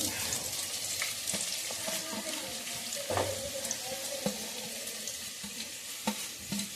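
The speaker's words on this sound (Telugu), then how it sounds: "నూనె అయితే వేడెక్కింది. దీంట్లోని ఈ ఉల్లిపాయలు, పచ్చిమిరపకాయలు మనం ముందు వేసిద్దాం." Chopped onions and green chillies sizzle in hot oil in a home kitchen while an egg curry is cooked. A continuous crackling fry runs throughout, broken by occasional sharp clicks and scrapes of stirring.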